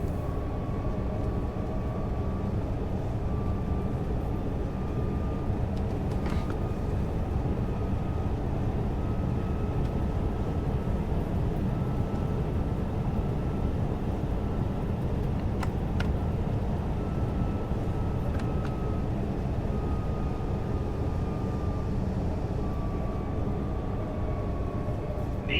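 Electric train accelerating in Train Sim World 6 on the Leipzig–Dresden line, a steady loud rumble of running gear and traction hum with faint tonal whines, continuous throughout and no talk.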